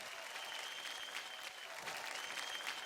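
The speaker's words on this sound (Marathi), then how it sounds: "मृण्मयी आणि तिच्या ताईसाठी जोरदार टाळ्या" An audience on a televised Marathi dance show applauds, with dense, steady clapping that sounds distant and continues throughout without a break.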